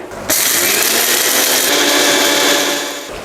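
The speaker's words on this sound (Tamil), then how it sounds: "இதை குறைன்னு பொடி பண்ணி எடுத்துகிட்டு வந்துடுறேன்" A kitchen mixer grinder whirs loudly up close, grinding roasted spices for puliyodharai podi, its motor roaring steadily with a gritty rattle of dry spices, then winding down at the end.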